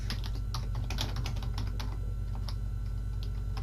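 Rapid, uneven typing on a computer keyboard, with close, continuous key clicks and a few louder strikes, no voices.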